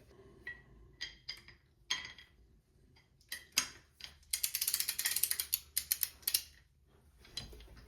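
A ratchet cranks down on an AR-15 lower receiver, with scattered single clicks and then a fast run of rapid ratcheting clicks, close and fairly quiet, ending in a few slower clicks.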